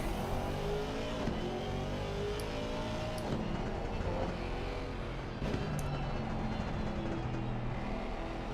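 A 6.2-litre German V8 race car engine in Assetto Corsa Competizione drones steadily throughout, its deep revs rising and falling through gear changes with occasional sharp transients, loud and continuous with no talk.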